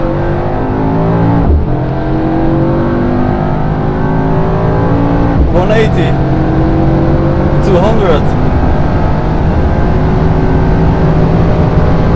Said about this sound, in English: Because I really want to feel what this E63S is capable of. And let's full throttle.